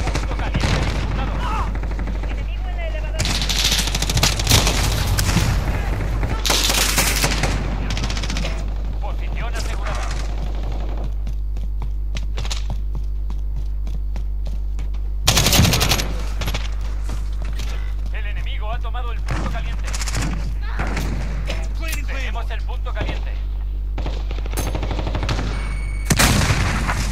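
Gunfire in the video game Call of Duty Modern Warfare, with scattered bursts of rapid automatic shots and booming impacts over a constant low hum, while a player talks throughout.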